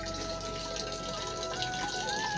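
Water runs steadily from a village tap in Darjeeling, a continuous close gushing flow that stays loud for the whole short stretch, with no one talking.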